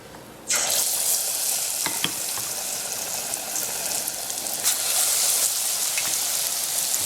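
Spoonfuls of pakora batter drop into hot oil for a kadhi fritter curry, setting off a sudden loud hiss that settles into a continuous bubbling fry with a few sharp crackles.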